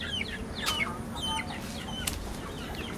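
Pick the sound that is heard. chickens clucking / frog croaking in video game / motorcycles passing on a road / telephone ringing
chickens clucking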